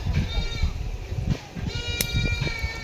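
A goat bleats repeatedly in a rainy rural farmyard, its calls rising over steady background noise and low rumbling, with a faint voice nearby.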